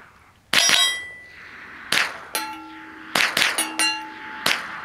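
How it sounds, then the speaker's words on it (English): Gunshots ring off a metal Renaissance-fair chalice at an outdoor range: several sharp cracks, each followed by a bright metallic clang or ding that rings briefly, spaced irregularly over a few seconds. "We're gonna shoot the Renfair chalice."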